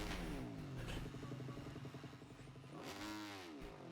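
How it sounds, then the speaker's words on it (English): MotoGP 25 racing motorcycle engine revving hard on the throttle, a loud buzzing whine that sweeps up and down in pitch, rising again near the end. "Too eager on the throttle again."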